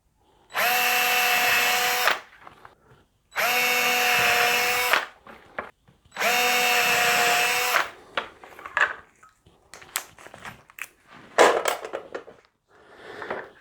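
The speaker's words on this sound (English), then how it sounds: "I'm just going to use a hand drill with a 3mm drill bit" A hand drill with a 3mm bit whirs in three steady bursts of about a second and a half each, drilling holes in a Les Paul Junior guitar build, followed by clattering and handling noises close by.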